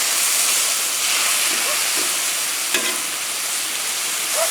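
Steak for a Philly cheese steak sizzling on a grill, a continuous loud hiss with a brief sharp crackle near the middle, no voices over it.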